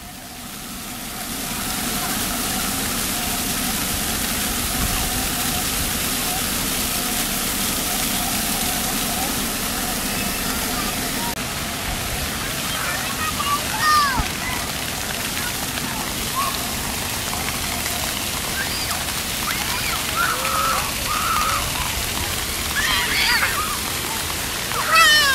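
Running water gushes steadily while people splash about and get wet outdoors, a continuous loud wash with excited voices and shouts over it.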